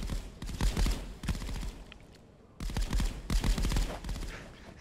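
A big rifle fires in the VR shooter Contractors VR, with dense bursts of rapid gunshots, a brief lull in the middle, then another loud volley, close and sharp.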